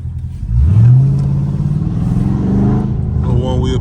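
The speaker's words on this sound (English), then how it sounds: "That's how you one wheel peel a Scat." A Dodge Scat Pack's catless engine revs hard during a one-wheel peel, holding a high, strained pitch as it accelerates, loud and near, with a voice speaking over it.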